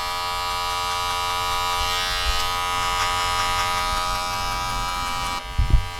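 Electric hair clippers hum steadily and close up while buffing out a skin line during a European-style drop fade haircut, a constant buzzing drone that cuts off near the end with a few handling knocks.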